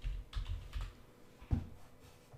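Keystrokes on a computer keyboard while typing code for a JavaScript React project, a quick burst of close, soft clicks followed by a sharper tap after a pause, fairly quiet.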